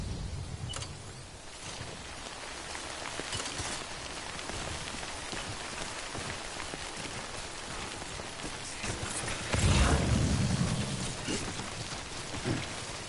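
Steady rain pattering on surfaces in the Death Stranding video game, a continuous hissing downpour with scattered drops, swelling briefly louder with a low rumble partway through.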